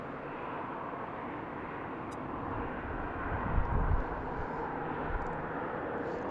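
A jet airliner takes off from runway 15 right at BWI airport in the afternoon, a steady broad roar with a low rumble that swells slightly midway, fairly distant and heard alone.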